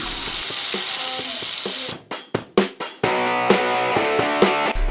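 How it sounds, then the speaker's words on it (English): Potatoes lowered into hot beef fat for a barbecue Sunday roast: a steady hiss, then several sharp clattering drops, then a louder continuous sizzle, close and alone with no talk. "You just want to very gently take the potatoes out and put them in the fat."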